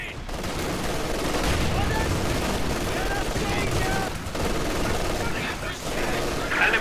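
Machine gun fire in Company of Heroes 2, an MG covering a flank amid a loud, dense battlefield of continuous rattling bursts and scattered gunshots with no letup.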